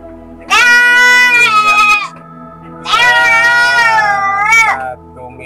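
A goat gives two loud, long, wavering bleats close by, separated by a short pause, with a faint background hum.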